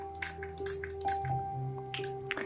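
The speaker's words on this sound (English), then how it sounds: "before sharing I like to spray some water on my hand" Several short, close hissing bursts of a spray bottle misting water onto a hand, spaced unevenly over a faint, steady background hum.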